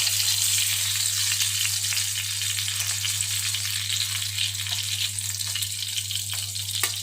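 Fish frying in a pan for a Tamil-style fish fry makes a steady, dense sizzle throughout, close and fairly loud, with a constant low hum underneath and no talking.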